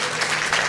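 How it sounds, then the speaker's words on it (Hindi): A church congregation claps in thanks, a brief burst of many hands striking together in a dense, steady patter at moderate volume. "ताली बजाकर परमेश्वर को धन्यवाद करें।"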